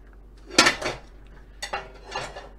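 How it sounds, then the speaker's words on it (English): A metal spoon scoops the flesh out of an avocado, giving a few short, close scraping and clinking bursts in a quiet kitchen, with brief pauses between strokes. "I'm just taking a spoon and scooping out the avocado"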